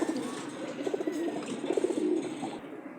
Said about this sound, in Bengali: আর এটা হলো খুবই সুন্দর একটা কবুতর